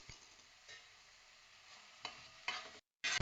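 Onions fry slowly over a low flame in a traditional bronze urli for a Kerala chicken roast, a soft quiet sizzle broken by a few louder stirring scrapes and a brief silent gap.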